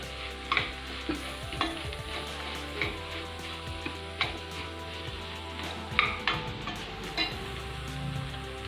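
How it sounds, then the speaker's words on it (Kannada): Drumstick sabji fries in a pan while a spatula stirs it, giving repeated scraping knocks about once a second over a continuous close sizzle. "ಇದು ಸ್ವಲ್ಪ ಆಡಿಸಿಪ್ಪ."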